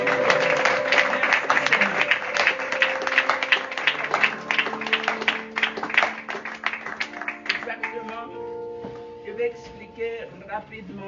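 A congregation at a Rosh Hashanah gathering in Kinshasa breaks into steady clapping and applause, dense at first and then thinning out, with voices and a sustained tone running beneath it.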